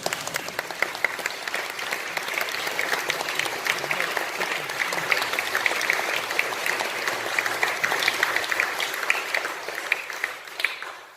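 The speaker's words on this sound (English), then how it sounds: "Can we just give them a massive round of applause?" An audience gives sustained applause after a talk on St Paul, dense, even clapping from a sizeable crowd that holds steady for several seconds and fades near the end.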